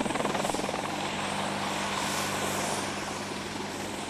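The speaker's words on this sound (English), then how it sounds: "It's what makes the Apache one of the military's most advanced and most celebrated aircraft" An AH-64 Apache Longbow attack helicopter thunders close by, its rotor chop and turbine whine loud and continuous, with a rhythmic blade thump strongest at the start.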